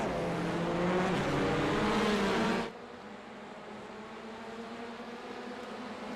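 Pack of race cars roaring off the start at Brands Hatch GP in a racing sim, a loud, dense engine buzz with layered pitches that drops abruptly to a quieter, steady drone partway through.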